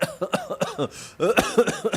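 A burst of repeated, raspy coughs close by, several in quick succession with a brief pause in the middle.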